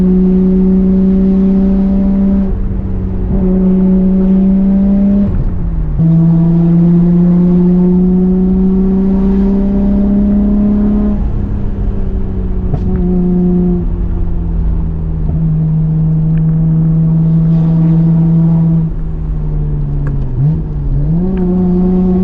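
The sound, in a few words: Nissan R32 GTR driving and accelerating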